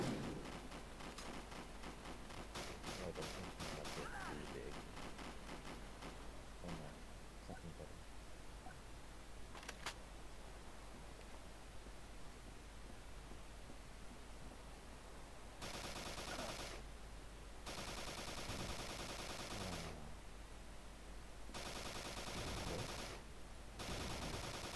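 Rapid automatic gunfire in the Call of Duty Black Ops free-for-all online match comes in faint, distant bursts over a constant low background, growing denser toward the end.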